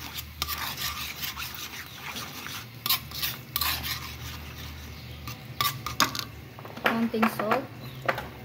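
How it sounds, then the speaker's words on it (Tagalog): Fried milkfish and garlic stirred in a pan, giving soft scraping and rubbing strokes with occasional utensil clinks, fairly close, with a voice talking at times over it. "haluin lang natin."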